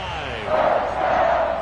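A home crowd swells in a Madden football video game, a crowd roar rising sharply partway through and holding loud to the end, with a voice over the top.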